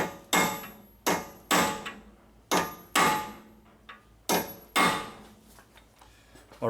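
Heavy hammer strikes crush the staked axle nut on a Toyota Highlander front hub, about seven loud ringing blows spaced roughly half a second to a second apart, each decaying quickly.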